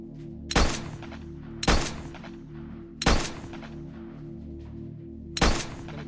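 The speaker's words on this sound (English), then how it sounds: "Let's try out the pistol." Pistol shots in the PS5 shooter Acre Crisis: four sharp, loud reports at uneven intervals, each followed by a brief decay, over a steady low game soundtrack with no talking.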